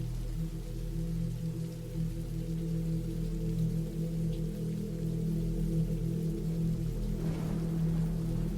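Steady, soft rainfall hisses in the background alongside a low, continuous rumble, an even ambient wash with no voices.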